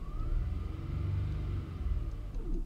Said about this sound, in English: If I can let's rev it